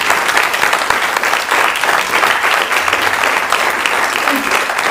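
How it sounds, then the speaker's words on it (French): Loud, continuous applause from an audience thanking speakers at a business networking breakfast, a dense, steady roar of hands, with faint voices mixed in underneath. "Je vous propose qu'on applaudisse"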